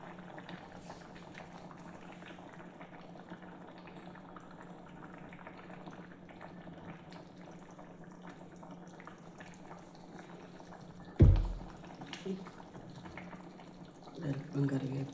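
Fish curry simmers in a pot on a low flame, giving a steady, soft bubbling hiss throughout, with a sharp clatter near the end and a few light kitchen knocks after.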